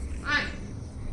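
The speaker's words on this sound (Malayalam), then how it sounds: "ഇനി നമ്മുടെ കോഴിയാണ് മിണ്ടാൻ പോണത്." A single short, nasal chicken call, a cluck or squawk, rings out once nearby over a low background rumble.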